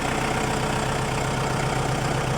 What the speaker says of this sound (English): Here's the loader tractor I'm going to use today, the 5510 four-wheel drive